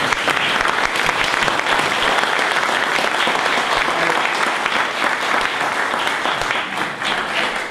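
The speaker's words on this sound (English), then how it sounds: "would you mind joining me in a round of applause for all those board members past and present?" An audience applauds board members, past and present, with dense, sustained clapping from a crowd that holds steady at full strength and fades slightly at the very end.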